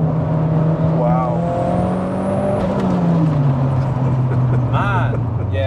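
A turbocharged mid-engine Toyota MR2 with a 2.2L stroker K20 engine roars steadily as it pulls hard through third gear, the pitch climbing and dipping, with voices talking over it.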